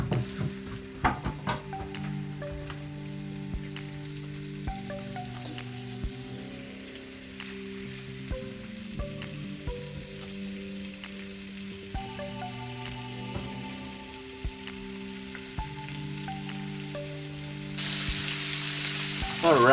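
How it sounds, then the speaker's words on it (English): Tofu sautéing in cooking oil in a pan, a steady close sizzle and crackle running throughout beneath a low tonal hum, growing slightly brighter near the end. "I'm just gonna saute the tofu a little bit."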